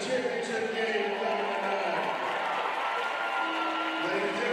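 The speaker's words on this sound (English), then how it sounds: "Ladies and gentlemen, round of applause for the Mountie." Steady crowd applause and cheering at a varsity boys basketball game in an arena, honoring the team mascot, loud and continuous throughout.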